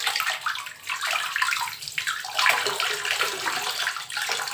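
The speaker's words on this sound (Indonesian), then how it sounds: "Pokoknya kita siram semuanya." Water pours steadily and splashes over a waterproof CCTV camera and its cabling, a continuous loud, hissing gush with a gurgling, sloshing texture throughout and no voices.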